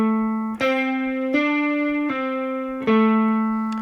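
A guitar plays a minor pentatonic lick with notes of equal length, some picked and some hammered on or pulled off, giving a bright sustained tone with an even rhythm, heard alone.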